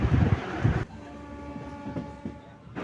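A train rumbles along the rails in Kerala, approaching Aluva railway station, with a loud burst of noise, then a quieter steady rolling drone with faint clicks.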